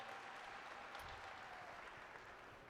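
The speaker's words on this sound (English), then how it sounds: "let's give them a round of applause for that" A crowd at a meetings-industry conference applauds the behind-the-scenes crew, a steady, faint and distant wash of clapping with no speech over it.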